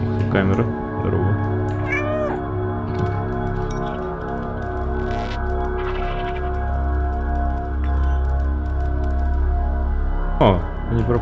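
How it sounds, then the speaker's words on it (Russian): Several drawn-out cat meows from the video game Stray rise and fall at intervals over steady game ambience and music, while someone talks over them. "Скажи мяу."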